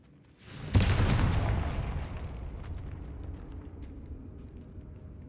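In Hogwarts Legacy, the Confringo explosive spell goes off with a single loud sharp blast after a brief whoosh, then a long rumbling roar that slowly fades over several seconds; no one talks.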